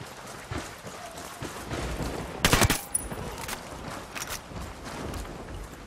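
A minigun roars in a single harsh burst on a bridge in Ghost Recon Wildlands, rising suddenly over quieter distant gunfire and movement, moderately loud and fairly brief.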